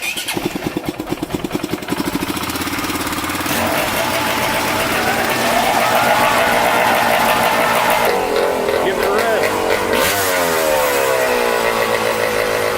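A two-stroke 250 dirt bike engine idles with a chugging beat, then revs up into a loud, rising whine that wavers and climbs again near the end.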